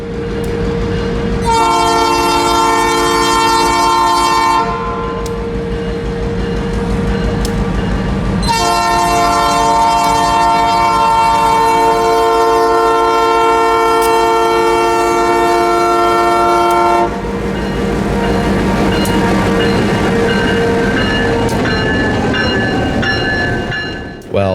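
Florida Central Railroad locomotive 1802 moves through a yard, its loud horn sounding in long blasts over a steady engine rumble and rolling freight cars, close and powerful.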